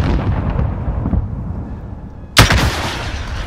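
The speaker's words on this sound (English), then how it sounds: "Launching rocket." A rocket launches in Call of Duty Modern Warfare with one sharp, loud blast about two-thirds of the way through, after a low rumble of battlefield ambience.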